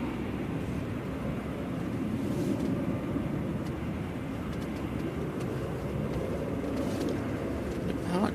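Jet engine roar from a British Airways airliner departing Manchester Airport on a gusty day, a steady broad rumble sustained throughout, blended with wind noise and heard from a distance.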